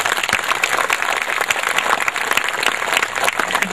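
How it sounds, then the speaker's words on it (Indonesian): An audience at a poetry reading bursts into dense, sustained applause, with many hands clapping loudly and steadily throughout and no voices on top. "Saya kira tepuk tangan untuk."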